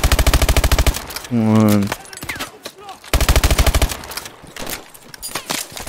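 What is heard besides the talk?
gunfire in video game Call of Duty: Advanced Warfare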